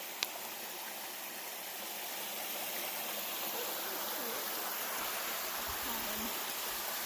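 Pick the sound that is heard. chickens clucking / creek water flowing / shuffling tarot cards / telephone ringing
creek water flowing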